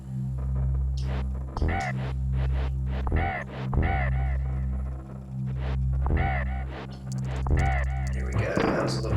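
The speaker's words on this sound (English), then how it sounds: "I need to aggressively attack those birds" Repeated bird caws from Donkey Kong Country, the video game, come in short bursts over a steady, droning game music loop with a throbbing low bass.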